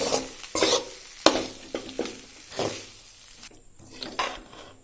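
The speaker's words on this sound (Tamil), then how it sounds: "காயும் சாதமும் நல்லா மிக்ஸ் ஆகணும் இப்படி நல்லா கிண்டி விடுங்க" Carrot and bean fried rice stirred and mixed in a pan, a spatula scraping and tossing in uneven strokes over a low sizzle, close by, without speech.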